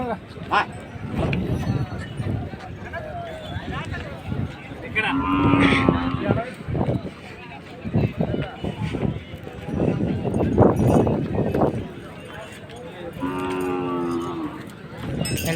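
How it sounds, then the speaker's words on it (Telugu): Bulls and other cattle low repeatedly at a busy livestock market in Pebberu, with a couple of clear, drawn-out moos rising over a steady crowd hubbub while people talk nearby. "చూస్తున్నారు కదా ఎద్దులను అయితే ఒకసారి చుట్టుముట్టు చూసే ప్రయత్నం కూడా చేద్దాం"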